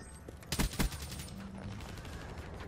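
Gunfire from a shooter video game, with two loud close shots about a quarter second apart followed by a dense, lower rumble of distant firing and game noise.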